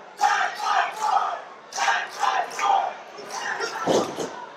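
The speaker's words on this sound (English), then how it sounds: "As you hear the crowd urging him on" Wrestling crowd at a CCW Bash at the Brew event in Hialeah, Florida, shouting and cheering in rolling waves, urging a wrestler on with rhythmic chant-like bursts and a thud near the end.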